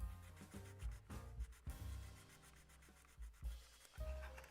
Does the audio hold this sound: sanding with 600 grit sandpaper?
yes